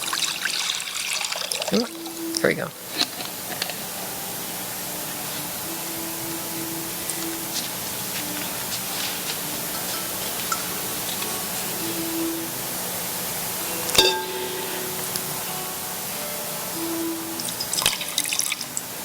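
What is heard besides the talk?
water being poured out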